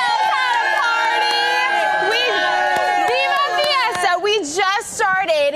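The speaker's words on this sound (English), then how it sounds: "This crowd right here knows how to party." A large crowd cheers and shouts at an outdoor community event, with many excited voices and high whoops blending into a loud, dense roar that swells near the end.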